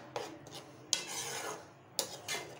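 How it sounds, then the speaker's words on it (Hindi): A spoon scraping and stirring soybean gravy in a cooking pan, three soft rasping strokes at a steady pace, close and fairly quiet. "ग्रेवी को चलाते रहेंगे।"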